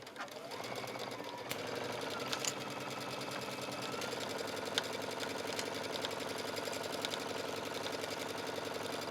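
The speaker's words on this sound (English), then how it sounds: "now I'm just going to go ahead and sew this with a regular stitch, just a regular straight stitch" A sewing machine runs a steady straight stitch around a skirt pocket, with a continuous close mechanical whirr and rapid rhythmic needle chatter holding an even pace throughout.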